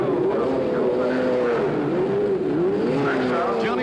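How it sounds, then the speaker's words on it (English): Race car circling the track during qualifying at the 1973 Indianapolis 500, its engine tone rising and falling in steady pitch sweeps, held at a moderate distance under a narrator's voice. "The third member of Parnelli Jones's team, defending champion Joe Leonard, takes a wave off"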